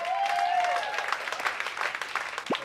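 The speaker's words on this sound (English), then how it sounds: "here's some applause for you." Canned applause fired from a button in a Garfield cartoon, a brief burst of clapping with a tonal cartoon voice sliding over it at the start and a quick vocal blip at the end.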